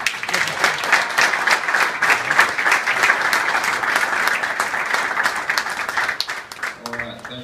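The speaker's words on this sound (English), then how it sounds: "a big round of applause for the Eddie Robinson winner" Sustained audience applause fills a banquet room honoring an Auburn football coach and winner of the Eddie Robinson award, many hands clapping steadily and loudly before fading as a voice begins near the end.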